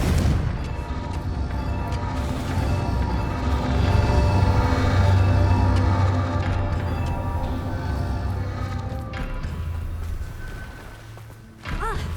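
Loud, dense game combat soundscape from Hogwarts Legacy, booming spell blasts of the Confringo fire spell layered with rumbling impacts and effects, sustained for several seconds before fading out near the end.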